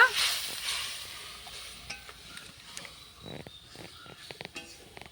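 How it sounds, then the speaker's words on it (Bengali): Spice paste for a fish head and banana flower dish frying in a pan with a little added water, giving a soft, close sizzle under intermittent scraping and stirring strokes of a utensil, with no talking. "এখন ভালো করে মশলাটা একটু ভেজে নেব।"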